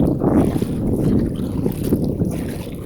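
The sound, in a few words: wind while kayaking in the Florida Keys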